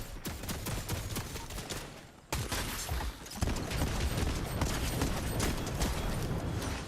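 A game turret set up outside a vault fires a rapid, sustained rattle of shots, dense and continuous with a brief break, mid-distance and fairly quiet, with no talk.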